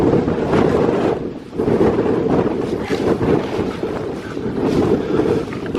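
Loud wind buffets the microphone on an open hillside, a dense rumbling roar that barely lets up, dipping briefly before surging back, with no voices.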